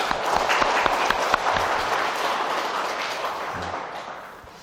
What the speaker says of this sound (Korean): 우리 환영하는 박수 한번 칠까요?